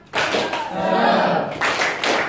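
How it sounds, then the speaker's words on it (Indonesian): A high school math class in Batam does a rhythmic group clap, a few sharp bursts of hands with voices chanting along between the claps. "Tepuk semangat"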